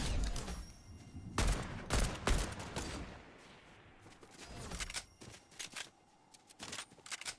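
Fortnite video game gunfire: loud bursts of rapid shots in clusters, then a quieter gap, then scattered single and double shots, close and sharp with no talking.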